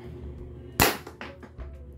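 A K117D spring-type airsoft gun fires a single loud, sharp test shot close up, followed by faint clicks and rattles of handling.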